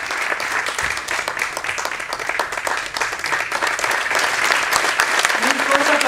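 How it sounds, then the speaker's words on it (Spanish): Sustained applause from an audience at a civic ceremony in Sagunto, where a silver city medal is presented, steady and dense throughout, with a voice starting to speak near the end. "Fort aplaudiment."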